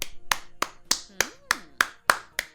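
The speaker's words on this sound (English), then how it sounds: "No, I'm clapping, but good job, Maxis." Nine sharp hand claps land in an even rhythm, close and crisp, with faint background sounds between them.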